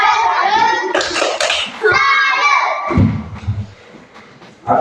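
Children in a classroom clap their hands together in a rhythmic chant, loud and close, with young voices calling out between the claps.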